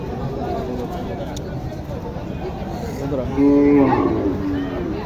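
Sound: cattle at a livestock market

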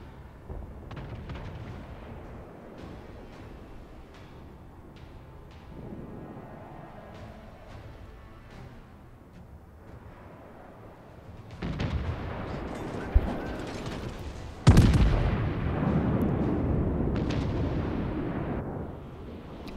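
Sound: naval artillery shells firing and hitting, video game World of Warships

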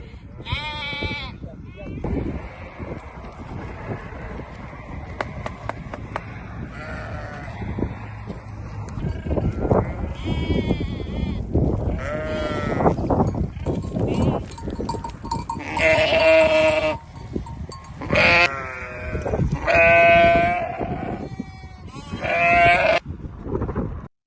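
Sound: Suruç sheep bleating

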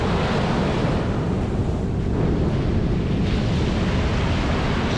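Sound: ocean waves receding on Florida beach

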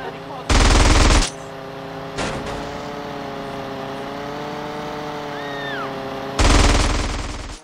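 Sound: gunfire in video game GTA San Andreas

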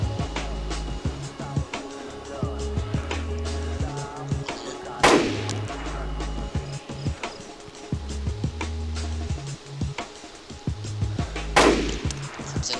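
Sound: rifle shots in DayZ video game

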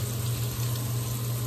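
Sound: water running from a bathroom tap

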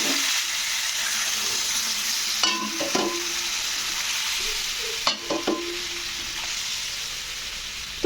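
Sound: water poured into pan of frying vegetables, sizzling

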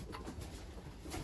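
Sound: pigeons cooing in a breeding loft

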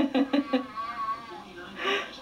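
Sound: child imitating a cat meow

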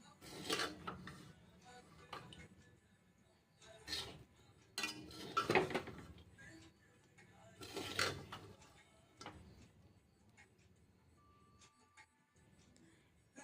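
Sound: mixing chicken fried rice with fried chicken and egg in pan

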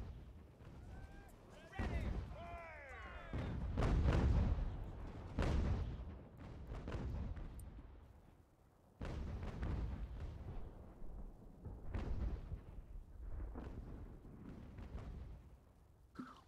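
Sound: cannon artillery fire in video game Ultimate General: American Revolution

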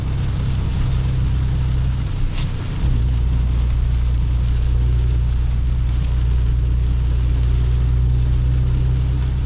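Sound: heavy rain on pickup truck

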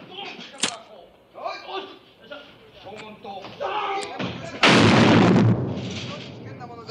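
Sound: cigarette rocket gun firing in a James Bond film

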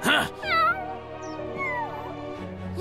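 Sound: kitten meowing in a cartoon

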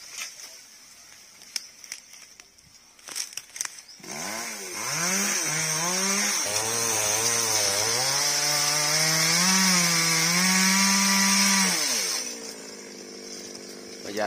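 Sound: chainsaw cutting a branch of a tall tree

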